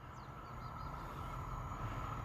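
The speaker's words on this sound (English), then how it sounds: "Oh, here is the train from Hamburg." A train from Hamburg passes at a steady distance, a continuous low rumble and rolling rail noise filling the whole stretch with no breaks.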